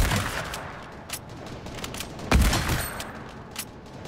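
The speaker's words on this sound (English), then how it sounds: "Hunting rifle. A little different than the old hunting rifle." Hunting rifle fired in Fortnite, a few sharp, punchy shots, one markedly louder crack near the middle against a busy game background of smaller pops and clatter.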